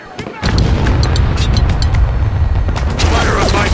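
Mortar fire exploding in the video game Spec Ops: The Line, a loud, sudden rumbling blast that swells into a sustained roar of debris and booms, with voices barking orders in the mix.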